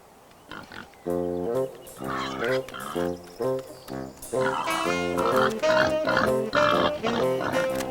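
Wild boars, omnivorous wild pigs, grunt and snort repeatedly while feeding, loud and close in a steady stream of rhythmic oinks and grunts.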